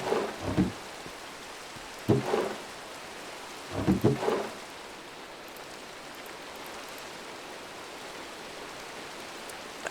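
Steady rain hiss in the Minecraft video game, broken by three loud thunder cracks that rumble and fade, with no voices.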